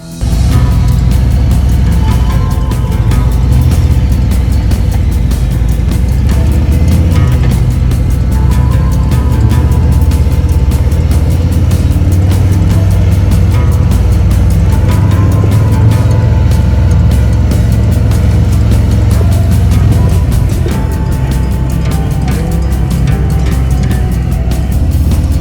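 A 2020 Harley-Davidson Street Glide motorcycle fitted with a windshield rides down the street, a loud, steady engine rumble and wind roar that carries on without a break for the whole stretch, with no talk.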